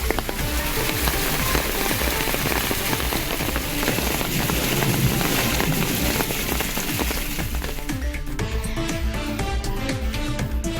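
Heavy rain pours steadily onto open water where ducks are bathing, a loud, dense, continuous hiss of drops with no talk, easing slightly toward the end.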